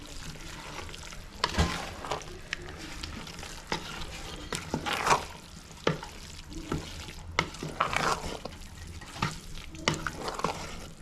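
Carrot gajrela being stirred in a pot over a clay stove, with a spoon repeatedly scraping and stirring through the thick mixture amid a soft sizzle; the strokes come at uneven intervals, close and moderately loud, with no talking.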